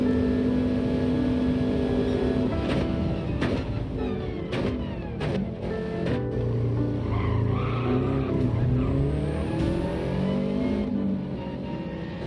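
A Subaru WRX race car skids with tyres squealing and the engine revving hard, loud and close in a continuous stretch of slides and throttle bursts, with no talk over it.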